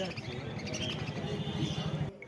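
Lovebirds at a bird market give faint, rapid chirps and tweets in a steady chatter over a busy background, and a voice can be heard among them.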